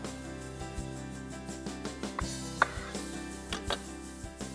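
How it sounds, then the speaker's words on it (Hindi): A knife cutting through lemons on a cutting board, sparse light taps and thuds spaced irregularly, close and fairly quiet against a faint background hum. "उसके लिए हम नींबू को काट लेते हैं"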